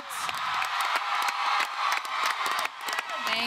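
A live audience applauds and cheers for actress Jennifer Lawrence, dense sustained clapping mixed with whoops and shouts from the crowd, loud and continuous across the whole stretch.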